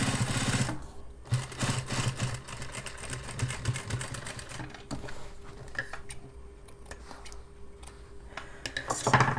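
Sewing machine single-stitching the hem of denim jeans, heard in bursts of rapid mechanical clatter separated by short pauses, close and moderately loud.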